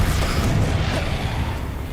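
A Confringo spell explosion in the Hogwarts Legacy video game, a loud dense rumbling blast that fills the short moment with low booming energy and a sustained crackling tail.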